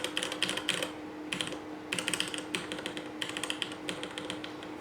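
Typing on a Ducky Zero 2087S mechanical keyboard fitted with Cherry MX Speed Silver switches: quick bursts of close, crisp clacking keystrokes separated by short pauses, with no voices.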